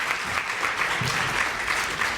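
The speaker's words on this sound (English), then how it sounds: "can we give yourself a round of applause?" A crowd applauding steadily at the opening of a World Bank Group event, a dense wash of clapping that holds at an even level throughout.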